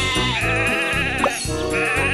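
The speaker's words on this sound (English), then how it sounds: "Some sheep have wandered off from the farm." A cartoon sheep bleats in a Thomas & Friends toy train video game, a short, loud, wavering cry set over bright, steady game music.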